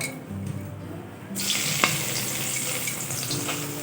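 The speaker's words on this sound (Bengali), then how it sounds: "তেলটা গরম হয়ে গিয়েছে এখন আমি দিয়ে দিচ্ছি ভিজিয়ে রাখা সয়াবিনটা" Soaked soybean chunks hit hot mustard oil in a wok, and a loud, hissing sizzle bursts in suddenly after a quieter start, then crackles steadily close up.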